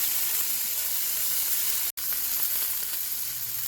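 Honey-glazed salmon fries steadily in a pan, with a loud continuous sizzle and hiss that cuts out for a moment and then resumes.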